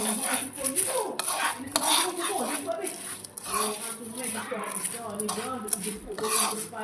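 Spoons clink and scrape against a bowl while honey cornflakes are mixed, a steady run of light metallic taps and stirring sounds close by, with people chatting over them.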